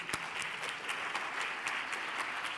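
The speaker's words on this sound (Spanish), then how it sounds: "Dale una ronda de aplausos" Steady audience applause in a talk or conference hall on user-experience design, many hands clapping in a dense continuous patter at moderate volume with no voices over it.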